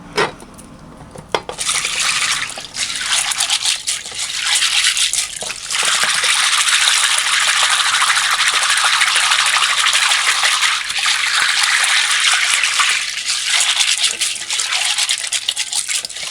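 Pig's tails being washed by hand in water with white vinegar, a long, close run of sloshing, splashing and rubbing with brief pauses near the start, and no talking.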